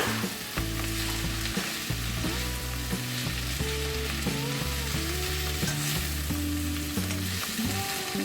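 Kangkong (water spinach) stir frying with tofu in a hot pan, a continuous loud sizzle under steady background music, with no talking.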